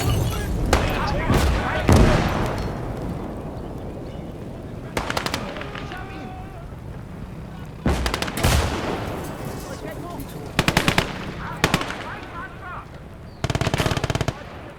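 Machine-gun bursts and scattered gunshots echo through a World War battle in Call to Arms: Gates of Hell. Rapid bursts repeat at intervals, some near and some farther off, over a rumbling battlefield with voices heard at points.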